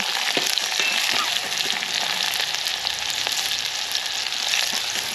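Green chillies and onion frying in oil at a farm cookout, a steady dense sizzle with occasional crackles and stirring clicks throughout, fairly loud and close, no talking.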